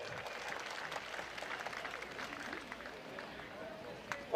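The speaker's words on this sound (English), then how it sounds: "How about a big round of applause for our Hall of Famers and old timers down here on the front straightaway?" Crowd at Midvale Speedway applauding Hall of Famers and old timers on the front straightaway, a steady outdoor clapping wash lasting throughout with a louder burst at the end.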